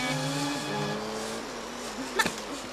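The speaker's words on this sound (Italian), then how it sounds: "E le moto si muovono!" Toy motorcycles racing in an animated Kinder advert, high buzzing engine whines that rise and fall in pitch like insects, with a brief sharp click near the end.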